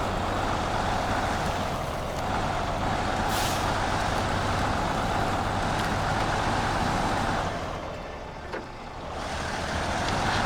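A heavy truck in the SnowRunner video game reverses slowly down a mountain, its engine a steady loud drone with a hissing air-brake release; the noise dips briefly near the end before picking back up.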